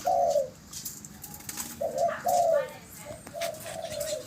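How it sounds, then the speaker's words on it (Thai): Pigeons recently moved into a breeding cage give repeated low coos in short phrases, fairly close, with faint chirps and light background noise between calls. "ผมเห็นเขาคู่เขาขัน เริ่มไล่คู่ไล่ตีมูแล้ว"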